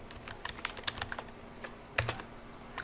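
Quick, uneven clicks of fingers typing on a computer keyboard, close and fairly quiet, with short pauses between bursts of keystrokes and no talking.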